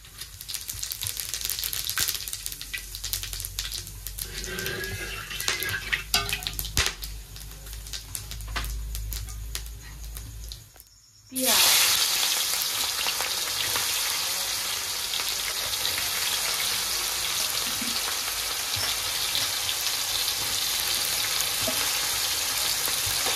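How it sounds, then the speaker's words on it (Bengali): Whole black pepper, cloves, cinnamon and cumin drop into hot oil in a home kitchen, bursting into a loud, steady sizzle after a brief quiet gap, with faint clinks and stirring scrapes over the dense crackle. "তেলের উপরে দিয়ে দিচ্ছি গোটা গোলমরিচ, লং, দারচিনি, জিরে"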